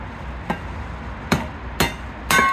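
A lump hammer strikes wood on a kindling splitter four times at uneven intervals, the blows growing louder and sharper, with faint outdoor background noise between them.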